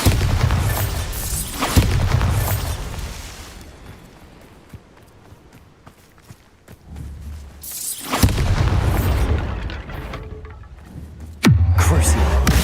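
Bombarda spell blasts in Hogwarts Legacy: deep booming explosions go off one after another, loud and close, with a quieter rumbling stretch between bursts.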